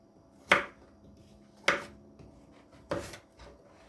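A knife chops through raw pumpkin on a cutting board in a home kitchen, three sharp separate strikes about a second apart, close and fairly quiet with no talk.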